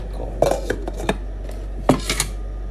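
Metal pot lid clanks and clatters against a pot, a couple of sharp knocks followed by a second burst of rattling, close by.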